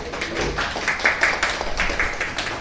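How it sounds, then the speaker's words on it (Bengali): An audience claps at the launch unveiling of a Hero Xoom 125 scooter in Bolpur, a steady, fairly loud patter of many hands that swells slightly as it goes on. "সবাই জোরে হাততালি হোক"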